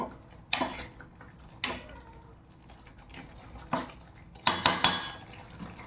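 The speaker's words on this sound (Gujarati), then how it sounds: "આપણે એડ કરી દઈએ તળેલી બટાકી. થોડીક વાર સાંતળવા દઈએ" Fried baby potatoes being sautéed in oil for dum aloo: a spoon clanks and scrapes against the pan in scattered sharp strikes, a quick cluster of knocks near the end, over a faint steady background.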